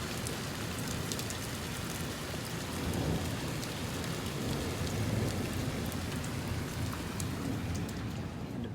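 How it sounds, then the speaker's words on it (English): Heavy rain pours down steadily onto a roof during a thunderstorm, a dense continuous roar with faint low rumbles of thunder underneath and no voices. "that rain do be coming down though"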